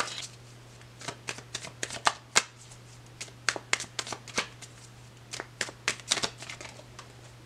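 Tarot cards being shuffled and drawn, a run of crisp, irregular riffling and flicking bursts over a steady low hum, close and fairly quiet.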